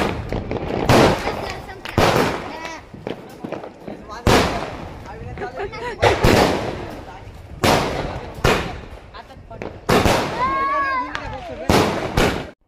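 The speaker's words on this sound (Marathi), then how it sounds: "हे बघा मस्त फटाके वाजून झाले" Diwali firecrackers bursting outdoors during Lakshmi Puja celebrations, a rapid series of loud sharp bangs and crackling pops repeating through the clip, with some whistling bursts and people talking in the background.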